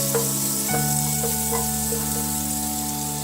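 Butter melting in a frying pan that has just cooked onion, giving a steady, close sizzle with soft crackles and a low hum beneath.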